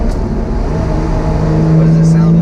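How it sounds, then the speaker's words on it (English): A Lotus sports car engine revs up inside a tunnel, its steady droning tone climbing and growing louder, with a boomy, reverberant low rumble. "So I can rev the car a tiny bit more"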